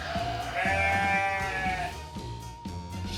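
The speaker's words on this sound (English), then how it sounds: "The sheep goes..." A sheep gives a single long, wavering bleat, loud and close, trailing off into a lower tone before the sound fades.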